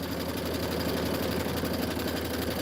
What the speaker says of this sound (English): Ooh, it sounds like my thread's gonna break.